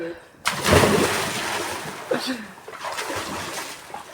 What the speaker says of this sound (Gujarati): અમારે હરેશભાઈ હવે ઠેકડો મારે ટાઈમમાં